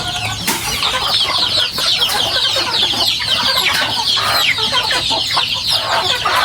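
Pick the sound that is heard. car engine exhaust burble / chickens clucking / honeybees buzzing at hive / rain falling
chickens clucking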